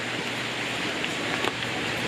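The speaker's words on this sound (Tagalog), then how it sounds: "Sorry kung umuulan na." Steady rain falls on an outdoor resort, a dense, even hiss of drops with no pauses and no one speaking.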